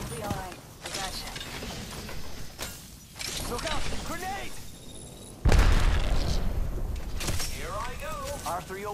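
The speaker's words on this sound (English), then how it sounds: "Look out! Grenade!" A grenade goes off in the Apex Legends shooter, a sudden heavy boom with a crackling tail midway through, surrounded by game sounds and voices speaking before and after.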